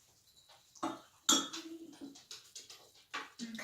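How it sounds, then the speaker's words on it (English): A spoon stirs Manuka honey into dog food in a bowl, with a series of close, light scrapes and clinks arriving unevenly with short pauses between them. "I am just going to stir that in. I think I need a spoon to do the stirring."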